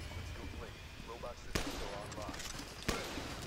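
A sniper rifle firing in a video game, two sharp, separate shots spaced more than a second apart over a busy game background, with a voice speaking early on.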